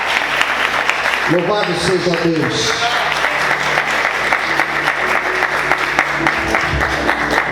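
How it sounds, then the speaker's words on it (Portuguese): A church congregation applauds during a sermon, a steady wash of clapping running the whole length while a voice speaks over it near the start. "Aplauda Jesus com muita alegria."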